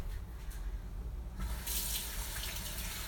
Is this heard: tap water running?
yes